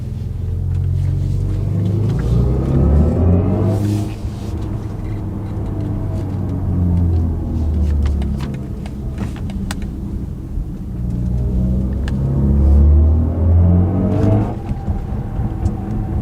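A BMW i4 M50 electric car driving in sport mode gives off a deep synthetic rumbling hum that swells and falls with acceleration, steady and prominent from inside the cabin.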